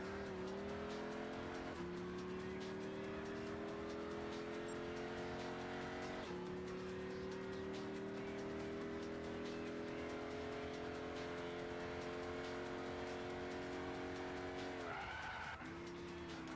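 A Chevy's tires squeal and skid for a long stretch in Gran Turismo 6, a sustained, wavering screech over the engine note that shifts pitch a few times and breaks up near the end.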